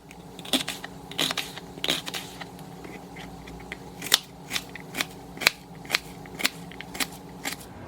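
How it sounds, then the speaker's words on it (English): Knife slicing through a purple onion on a cutting board, a series of crisp, evenly spaced chopping cuts that grow more regular toward the end, close and moderately loud. "I did decide to do a purple onion, so I'm going to go ahead and cut this real quick."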